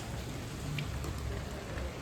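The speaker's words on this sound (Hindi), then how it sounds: "तगड़ी रेनफॉल हो रही है, तगड़ी।" Heavy morning rain pours down steadily in India, a dense, even hiss of falling water with faint drops and no talking.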